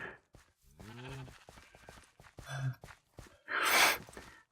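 Sheep in a video game bleat a few times, short wavering calls separated by gaps, with breathy sounds near the end and no talking.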